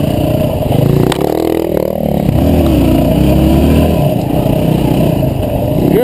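A dirt bike engine revs hard and steadily close by on a muddy ranch trail. The roar holds level and loud throughout, with a brief surge and clatter near the start.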